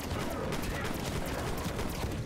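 Gunfire in the zombie Outbreak mode of the video game Black Ops Cold War, a dense continuous stream of rapid shots filling the whole stretch at steady loudness.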